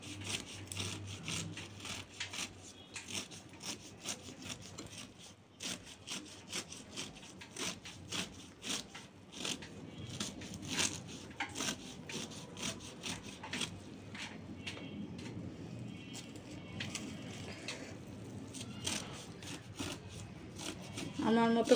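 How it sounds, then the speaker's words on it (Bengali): A knife chops finely through taro leaves on a board in a home kitchen, a steady run of quick, close, crisp strikes lasting throughout, with faint speech underneath. "একদম মিহি করে কুচাতে হবে।"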